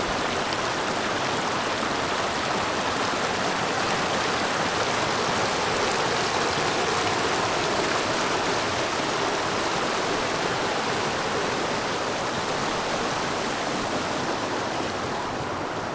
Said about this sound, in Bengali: রেলি নদীটা একটু দেখে নিলাম